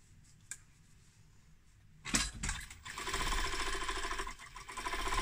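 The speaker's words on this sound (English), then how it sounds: "I'm going to just quickly sew this up for you" A sewing machine runs in steady bursts while stitching an enclosed seam made with the burrito method. It follows a quiet start with a few faint clicks, then a close, loud, continuous mechanical whir with no talking.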